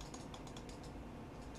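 Rapid typing on a computer keyboard, a continuous run of quiet, close key clicks with a steady rhythm and no voices.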